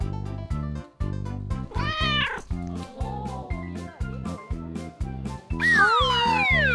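Several cats meowing at a children's television set during play with toys, repeated close, clear meows in an uneven rhythm, some rising and drawn out, over a bouncy musical backing.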